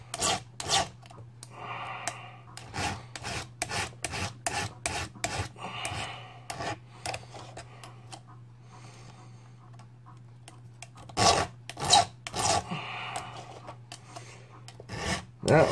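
A hand file rasps across the rakers of a three-quarters-worn chainsaw chain in short, close strokes, repeated in steady bursts with a pause midway, over a constant low hum.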